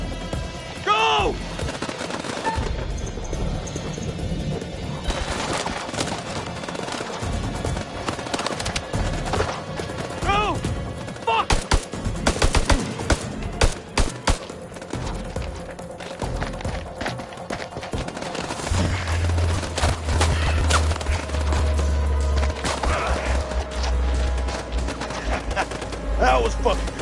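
Heavy gunfire from the House of Ashes video game: dense rifle and machine-gun bursts crackle for the whole stretch, some loud and close, under shouting voices.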